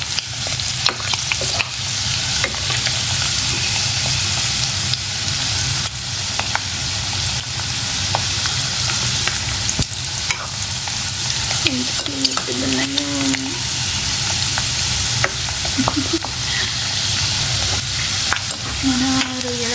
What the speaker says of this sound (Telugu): ఓకే, ఆల్మోస్ట్ రొయ్యలు ఫ్రై అయిపోయి